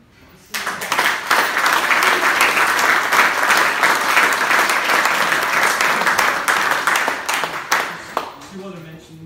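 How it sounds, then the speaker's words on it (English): Audience at a cricket club awards night breaks into loud, sustained applause that holds steady for several seconds before tapering off at the end. "I think we should give him a round of applause."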